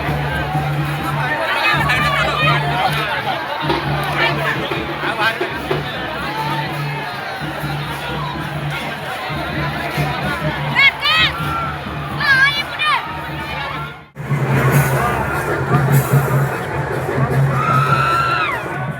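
A dense crowd of devotees at Jagannath darshan keeps up a continuous roar of shouting, chatter and cheering, with children's cries and whoops rising out of it. The noise briefly dips before surging back just as loud.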